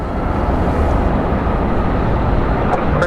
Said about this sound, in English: looks like we have another 767 Incoming for a landing